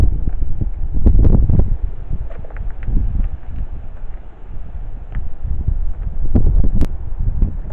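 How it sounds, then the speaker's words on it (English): Wind gusting around an old ruined church at night, rough buffeting rumble against the microphone that swells and eases in waves, loud and close with no voices. "The wind is getting up again."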